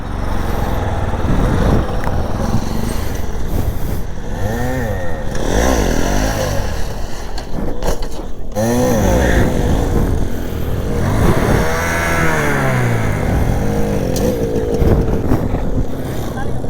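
A motorcycle engine revs loudly and repeatedly during wheelie practice, its pitch rising and falling in surges, while voices call out over the engine noise.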